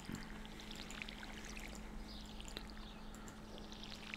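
Water pours from a watering can onto crops in the farming game Stardew Valley, a steady soft stream over a low hum, with small bright game chimes and blips scattered through.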